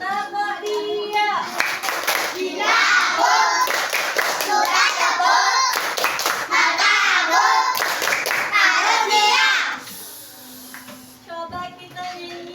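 Young children in an Indonesian classroom clap their hands together in a lively, rhythmic clapping game, with bursts of claps over their own chanting and singing voices and a teacher's voice near the end.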